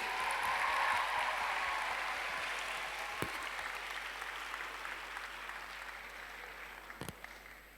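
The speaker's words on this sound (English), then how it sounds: "let's have a round of applause for your affirmative team" A large audience applauds the affirmative team at a junior debate showcase, steady dense clapping that starts strong and slowly thins out over several seconds, with a couple of sharper knocks near the end.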